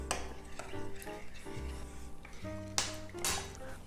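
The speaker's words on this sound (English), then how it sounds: "Stir well so that the perilla seed powder and salt is well mixed with stock" Perilla seed powder and salt stirred into stock in a pan, soft scraping and tapping strokes in an irregular rhythm, close and fairly quiet, with a few sharper utensil knocks.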